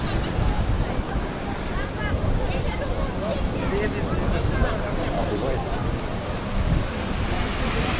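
Storm surf washing over a beach at Alushta, a continuous loud roar of breaking waves mixed with heavy wind buffeting the microphone, with faint voices beneath.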